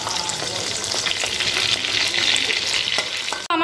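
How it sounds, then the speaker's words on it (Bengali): Cornflour-coated fish fry in hot oil in a pan, giving a loud, continuous close-up sizzle with crackles and bubbling that runs steadily before cutting off abruptly at the end. "এই যে মাছগুলো যতটা ভাজার আর কি ততটা ভাজবো, খুব বেশি কড়া ভাজে না, কারণ কর্নফ্লাওয়ার দেওয়া আছে"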